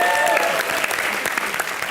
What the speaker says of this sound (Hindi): इसके लिए बहुत सारी ताली बजाए इसने।